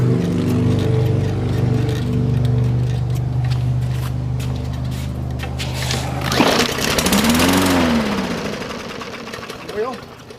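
A Murray lawnmower with a Briggs & Stratton E-Series 4.50 HP engine, carburetor trouble, won't stay running: a steady, loud small-engine drone for about six seconds, then a rough burst of noise and a wavering tone as it falters and dies.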